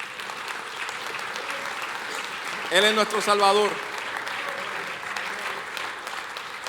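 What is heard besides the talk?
congregation applause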